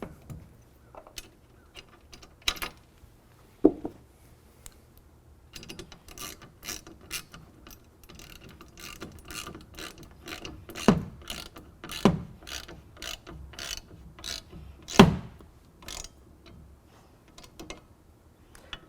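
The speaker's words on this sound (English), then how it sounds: "you've got a provided Allen head tool to tighten that down" Rapid ratcheting clicks from an Allen head tool tightening the rail bolts of a BAKFlip CS tonneau cover, coming in short irregular bursts with brief pauses between them, close and clear with no talking.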